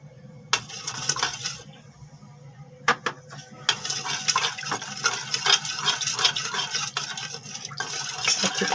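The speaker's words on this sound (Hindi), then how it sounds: "अच्छी तरह मिला लेंगे।" Spoon scraping and clinking in a bowl as two spoonfuls of oil are stirred into a risen yeast mixture for garlic naan dough, a busy irregular rattle near the mic with brief pauses, no talking.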